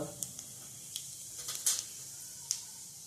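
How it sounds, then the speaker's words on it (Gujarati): Cumin seeds drop into hot oil for a Kathiyawadi green onion curry, giving a soft, quiet sizzle with a few sharp crackles and pops close by. "આપણું તેલ હવે આવી ગયું છે આપણે હવે જીરું નાખીશું અંદર"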